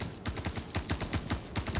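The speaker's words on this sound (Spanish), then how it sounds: "Me dispara. No sé quién me dispara." Rapid automatic gunfire in a shooter video game, a fast, even burst of roughly a dozen shots over two seconds, moderately distant and subdued.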